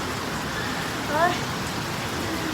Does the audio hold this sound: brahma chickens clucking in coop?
no